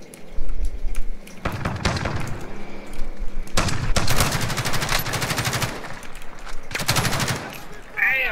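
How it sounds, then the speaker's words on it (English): Video game gunfire rattles in repeated bursts, loud and near, with rapid automatic volleys separated by short pauses and quieter distant shots between them, while players talk over the action. "Just shooting at everybody."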